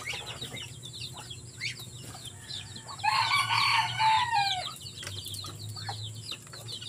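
Cobra chickens on a farm clucking and calling, with a louder burst of crowing-like calls in the middle, over steady low background rumble and distant bird chatter.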